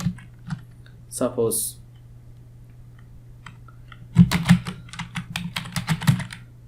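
Typing on a computer keyboard while entering product names in JSON format, with a brief burst of keys early and then a faster run of crisp key clicks, close and moderately loud, while a person speaks briefly.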